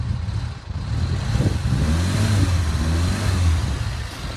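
A standard Reliant Robin's small engine idles close by, then is blipped briefly so the revs rise and fall with a rough, throaty note.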